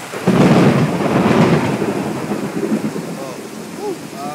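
Loud thunder rumbles through a heavy rainstorm, swelling early and then fading into steady rain and gusting wind, with a voice calling out briefly near the end.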